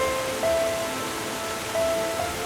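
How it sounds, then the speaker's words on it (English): Flooded River Wear in winter, a raging torrent producing a steady, even wash of rushing water heard from a distance, with no other sounds. "the once calm flowing waters of the Wear are now a raging torrent"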